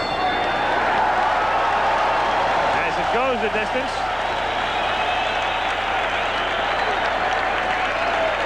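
A boxing crowd applauds and cheers steadily after Meldrick Taylor's fight goes the distance, a dense continuous roar of clapping with a commentator talking over it throughout.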